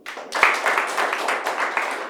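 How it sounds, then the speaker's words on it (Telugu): An audience at a meditation session claps loudly in a steady burst of applause lasting a couple of seconds, with a faint voice briefly audible. "వెరీ గుడ్, గట్టిగా చప్పట్లు కొడతాం."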